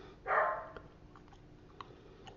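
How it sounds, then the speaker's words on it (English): Dogs barking outdoors in the background during trick-or-treating, one loud bark burst early, then a few faint, distant yips against a steady low hum. "Probably hear my dogs barking in the background."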